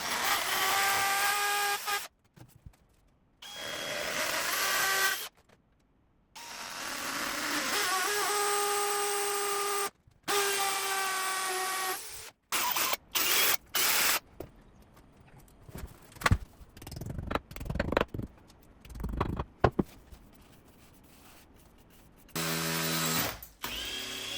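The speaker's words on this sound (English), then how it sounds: "Now it's time for hammer drill." A hammer drill drilling into a wall whines loudly in short stop-start bursts, broken by pauses of silence and some knocking and clattering.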